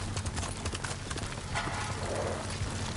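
A horse galloping in the video game Ghost of Tsushima, rapid rhythmic hoofbeats close and loud over a low rumbling background, with a brief snort or whinny near the end.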